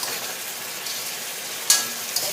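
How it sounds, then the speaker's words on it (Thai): Crispy fried catfish tossed in a pan with stir-fry sauce, sugar already added: a steady close sizzle and frying hiss with brief scraping clicks as the pieces are stirred, no voices. "ใส่ปลาเข้านะคะลงไปค่ะคลุกเข้านะคะ"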